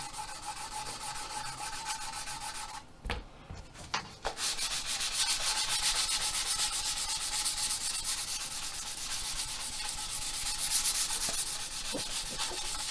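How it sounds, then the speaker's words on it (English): Steady rubbing and scraping of sandpaper by hand on a model, a continuous rasp with a brief pause and a couple of knocks early on. "Sanding and filling and dusting."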